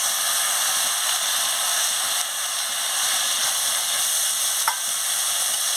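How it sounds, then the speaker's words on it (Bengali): Spice masala with chopped tomato, coriander powder and a splash of water sautéing in a pan, a loud, dense, even hiss of frying with faint stirring scrapes. "দিয়ে ভালো করে মশলাটাকে কষিয়ে নিচ্ছি"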